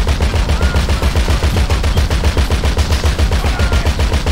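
Sustained automatic gunfire sprays in GTA Online during the Doomsday Heist, a loud, fast, steady rattle of rapid shots running throughout with no talking.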